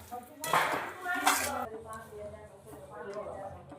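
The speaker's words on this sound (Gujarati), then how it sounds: "હવે આપણે તલને સારી રીતે મિક્સ કરી લેશું" A metal spoon scrapes and clinks in a pan while sesame seeds are stirred for chikki, with two louder bursts of scraping near the start and a voice speaking over it.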